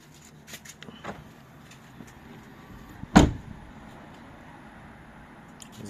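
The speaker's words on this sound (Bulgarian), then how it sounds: "Звука на вратата е добър." A car door is worked with faint handling noises, then shuts with a single sharp, close thud in an otherwise quiet setting.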